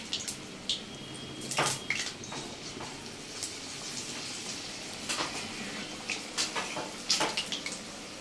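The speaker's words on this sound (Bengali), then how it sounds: "এবার চলে যাচ্ছে এই গরম গরম ডুবো তেলে" Potato-filled batter chops deep-frying in hot oil, a steady close sizzle and crackle with scattered sharp pops and utensil clinks, no talking.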